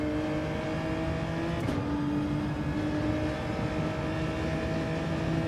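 Race cars in Gran Turismo 7 hold a steady, droning engine whine during close racing, with a brief shift in pitch partway through, moderately loud and without talk.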